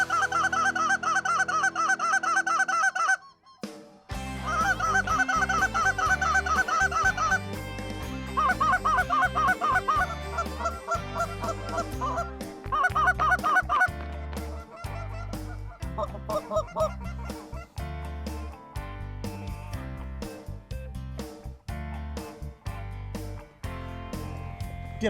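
A large flock of snow geese honks continuously at a Kansas hunt, a dense, loud chorus of overlapping calls that thins into scattered honks and sharp bursts later on.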